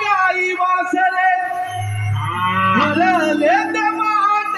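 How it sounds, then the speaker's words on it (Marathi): Cattle lowing, cows and calves, rise out of a loud Marathi gaulan devotional folk song in a naman-troupe remix, with a deep drawn-out moo under the singing voices and music partway through. "हमरती गाई वासरे"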